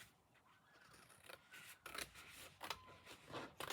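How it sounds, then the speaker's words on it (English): Scissors cutting through playing cards, a series of quiet close snips and rasping slices that come irregularly and grow busier toward the end, with no speech. "So you have to take good old scissors and cut."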